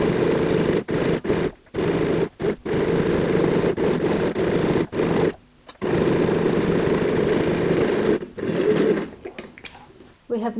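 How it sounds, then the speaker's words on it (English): A sewing machine runs top stitching along fabric binding on a handbag, with loud mechanical whirring bursts that stop and start repeatedly, separated by short pauses. "let's just go ahead and sew a top stitch."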